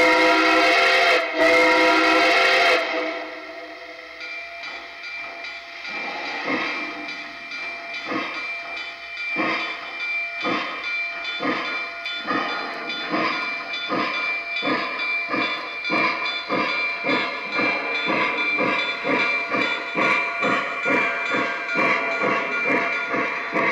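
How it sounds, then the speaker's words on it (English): A Lionel O-gauge model steam locomotive with rail sounds and a whistle steam effect opens with a loud whistle blast, then chuffs steadily as the rhythmic puffs quicken, close and alone. "It features the Lionel Legacy Control System, rail sounds, crew talk, electronic couplers, and the brand new whistle steam smoke effect"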